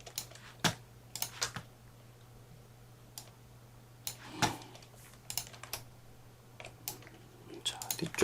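Someone presses computer keyboard shortcut keys, giving sparse, crisp clicks in short clusters, close and fairly quiet over a faint steady hum, while a person speaks softly.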